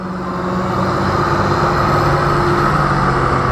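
A John Deere tractor engine runs at a steady, loud, close idle, a continuous low rumble with an even droning hum and no change in pitch.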